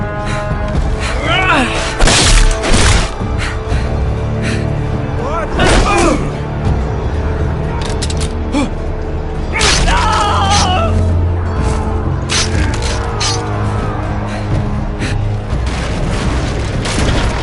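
Shooting and explosions in a Game of Thrones video game: repeated heavy booms and thuds at irregular intervals, loud and close, mixed with shouting voices and game sound effects.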